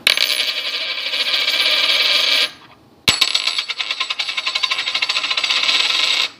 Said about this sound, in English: A little drop test. This is silver, this is cupro nickel.